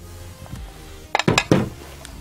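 A plate set down on a kitchen surface while preparing pork belly: a few quick ceramic clinks and knocks in a tight cluster, close and fairly loud, after a soft bump.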